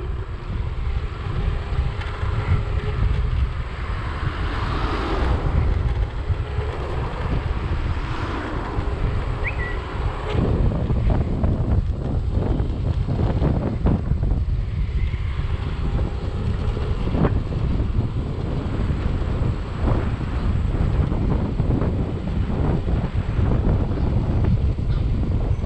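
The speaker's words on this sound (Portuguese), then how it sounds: "dá uma ventania que não se pode." Strong wind buffets the microphone as a rider travels on a Segway Ninebot ES3 electric scooter along a road, a loud, continuous low roar that rises and falls in gusts throughout.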